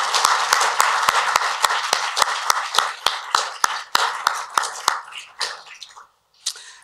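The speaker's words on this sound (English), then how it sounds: "So please join me in giving them all a big round of applause." Steady, evenly spaced hand claps at a university lecture event, loud and crisp at first, then thinning and breaking off near the end before a final pair of claps.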